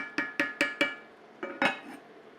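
A metal lid on a cooking pot of potatoes and okra makes a series of sharp, close clanks, four quick knocks and then two more, each ringing briefly.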